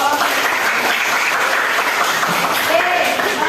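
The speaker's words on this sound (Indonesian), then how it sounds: "tepuk tangan dulu dong" A class of students applauds for their teacher, dense, continuous clapping from many hands that holds steady and fairly loud for several seconds, with a faint voice briefly audible underneath.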